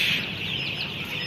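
Chickens on a poultry farm cluck and chatter together in a steady, close flock murmur, continuous for a brief moment with no voices.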